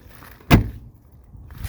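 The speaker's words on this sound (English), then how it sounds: "let me just show you how this door shuts" A 1985 Mercedes 300D door shuts once with a single solid, close thud, followed by quiet with faint rustling.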